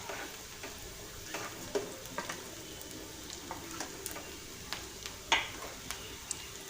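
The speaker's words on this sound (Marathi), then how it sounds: "त्यामध्ये आपण बारीक चिरलेल्या हिरव्या मिरच्या टाकणार आहोत" Chopped onions and finely chopped green chillies fry in a pan for Schezwan fried rice, a soft steady sizzle broken by occasional light scrapes and taps of a spoon as the mixture is stirred, fairly quiet throughout.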